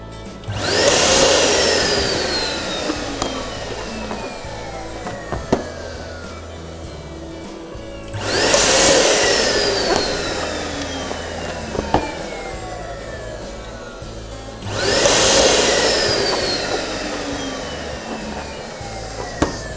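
An electric balloon inflator fills balloons for a Christmas tree centrepiece in three loud whooshing bursts of about four seconds each, separated by quieter pauses with small handling clicks.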